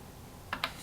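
Number keys are tapped on a keyboard while budgeting a paycheck: two quick, faint clicks in close succession over a quiet room hiss.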